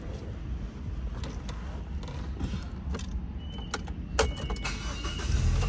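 A 2010 Ford Escape with the 2.3 engine idles smoothly in a steady low hum, heard close up alongside a few light clicks and creaks, with no talk.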